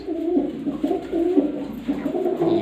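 Pigeons coo in a breeding loft among nesting birds sitting on eggs and chicks, repeated soft rolling calls close by, overlapping in a steady rhythm.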